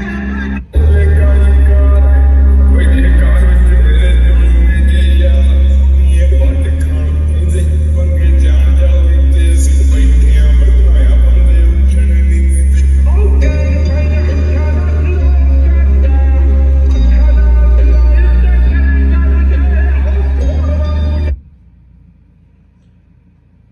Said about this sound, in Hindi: बाकी एक बार म्यूजिक सिस्टम सुना देते हैं इसका।